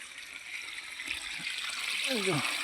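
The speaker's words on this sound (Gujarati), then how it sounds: "નાળી ખોલી કેટલું પાણી નીકળે છે" Water from an opened irrigation channel in a farm field pours and hisses nearby, a steady continuous flow with a voice briefly heard over it.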